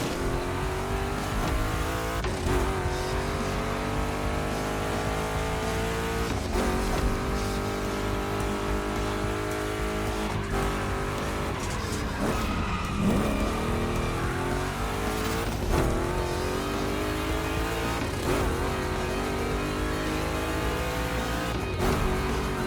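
Two Chevy big-block race cars race in The Crew Motorfest, engines roaring and revving continuously, rising and falling through gear changes with occasional tire squeal, loud and close.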